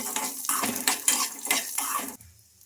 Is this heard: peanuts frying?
yes